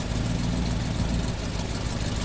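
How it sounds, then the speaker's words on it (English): A truck engine rumbles heavily from inside the cab, a dense, steady low drone at a constant loudness with no talk over it. "Courier pushes the gas pedal and the engine roars at us."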